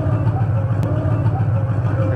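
An XK X Bugs 350 brushless RC rat rod truck drives nearby, giving a steady low motor hum and whir that runs continuously throughout, with faint background noise.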